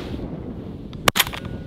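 A single sharp 20 gauge shotgun blast on a snowy public-land duck hunt, fairly close and brief, with a short echoing tail over quiet outdoor background.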